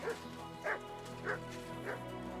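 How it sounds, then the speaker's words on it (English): Dog barking in the medieval video game Kingdom Come Deliverance 2, four evenly spaced barks over steady background game music, moderately loud, with no talk. "Call off that dog or I'll report you for being a public nuisance"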